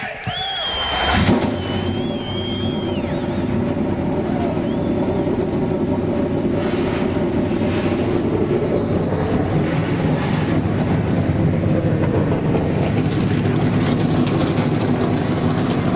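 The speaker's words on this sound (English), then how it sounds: "The engines have come to life." Pack of racing truck engines firing up together at a night speedway race, after a brief sharp start building into a dense, continuous roar that holds loud and steady throughout, with crowd and track ambience blended underneath.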